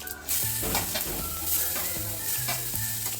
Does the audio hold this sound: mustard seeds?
yes